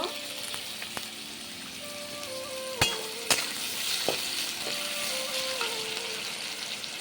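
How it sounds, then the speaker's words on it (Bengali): Carrots and long beans sizzle steadily in hot white oil in a pan, a continuous close frying hiss with a couple of sharp utensil clinks midway and soft background music throughout. "ততক্ষণে আমি এদিকে গাজর বরবটিগুলো ভেজে নিই"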